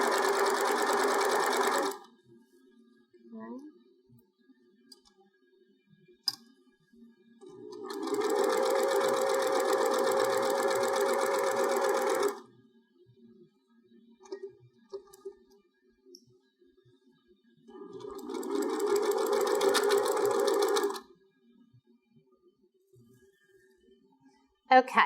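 A sewing machine stitches through a quilted trivet in three long steady runs of buzzing whir, close and fairly loud, separated by quiet pauses with faint handling clicks.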